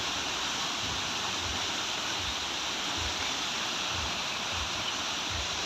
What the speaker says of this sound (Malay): Sungai dia.